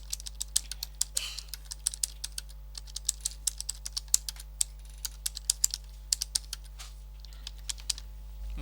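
Quick, light keystrokes on a computer keyboard tap out a message, irregular clicks close to the microphone over a faint steady hum, with a brief pause near the end and no speech.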